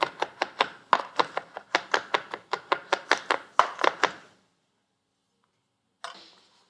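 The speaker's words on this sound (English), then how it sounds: "I'm going to chop a little bit of garlic" A knife chops garlic on a cutting board in a rapid series of about twenty sharp, close taps over four seconds, followed by silence and one faint scrape.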